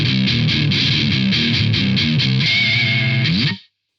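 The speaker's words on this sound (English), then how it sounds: "But now I've got a decent distortion." An electric guitar played through a Bad Monkey distortion pedal rings out thick, buzzing chords for about three and a half seconds. It is loud and up close, then stops abruptly into silence.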